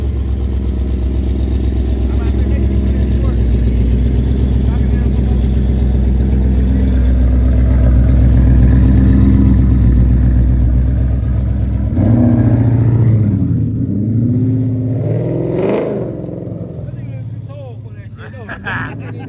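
A car with a built 5.0 engine running close by, a loud deep steady rumble that swells and fades before settling toward idle, with voices talking over it.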